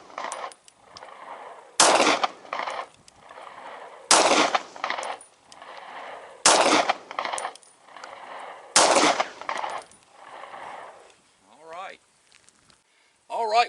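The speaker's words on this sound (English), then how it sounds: "We're going to put 5 rounds on target with the M&P" Five 9mm shots from a Smith & Wesson M&P pistol firing 135 grain +P rounds ring out at a shooting range, sharp loud cracks spaced about two seconds apart, with faint talk in the gaps between shots.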